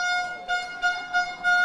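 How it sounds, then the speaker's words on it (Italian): Small toy trumpet blown in the stands at a youth football tournament final, a series of bright, reedy honks in bursts, fairly close and clear over faint crowd background. "Anche qualche trombetta in tribuna"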